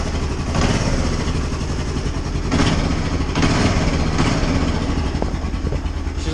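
A cold engine with the choke on idles steadily and loudly up close, a continuous rough rumble with a few faint knocks and taps over it.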